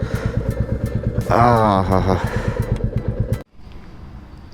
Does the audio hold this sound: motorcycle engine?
yes